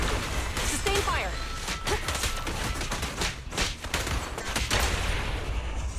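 Sustained gunfire in the video game Zenless Zone Zero, with dense bursts and impacts running throughout, loud and close, while voices speak over the shooting.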